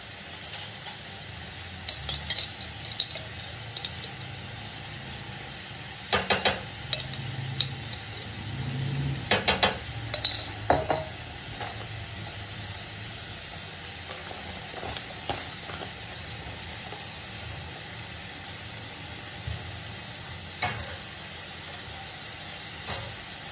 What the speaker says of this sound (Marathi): एवढासा टोमॅटो सॉस सगळं व्यवस्थित मिक्स करून घ्यायचंय